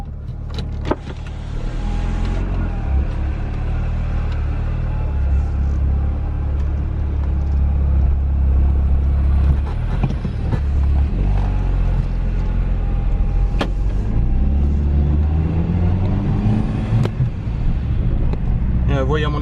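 Inside a moving car, a continuous low engine and road rumble fills the cabin, with occasional clicks and a faint whine rising and falling.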